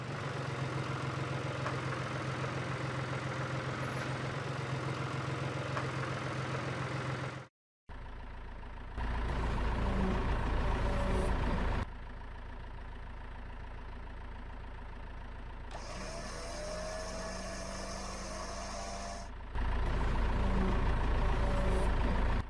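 A truck engine idles at a steady low rumble, broken by abrupt cuts and a brief silence, with shifts in loudness between sections and faint voices at moments.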